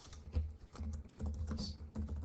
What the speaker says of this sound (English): Let's type that right here.